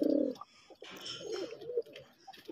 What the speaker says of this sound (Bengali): দেশি কালারিং গোল্লা কবুতর।